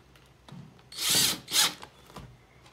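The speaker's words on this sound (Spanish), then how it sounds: "Entonces, vamos atornillando." Power drill driving screws through strips cut from bicycle tire inner tubes for a bird feeder, with two loud whirring bursts in the middle of the clip and softer tool clicks and handling noises before and after.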